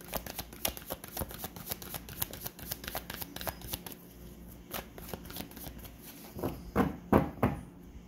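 A tarot card deck being shuffled during a reading, with a rapid run of crisp riffling flicks followed by a pause and a few louder slaps and ruffles of the cards, close and with no talk.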